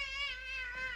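A cartoon cat meows loudly and steadily for about a second, a sustained tonal cry with rich harmonics, alone and close, in a 1958 Soviet animated film.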